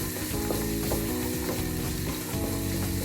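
Chicken stir fry cooks in an open pan with a steady, loud sizzle while a utensil stirs and scrapes repeatedly, producing rhythmic clicking and rattling against the pan.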